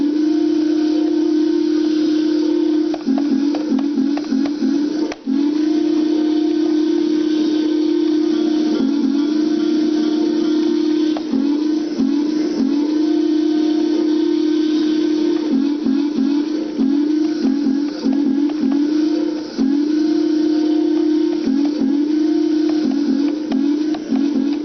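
A Rock Island steam locomotive whistle on NKP 765 in the video game Trainz sounds loud and near, one long steady blast held with a chime-like tone and broken by several short stuttering toots.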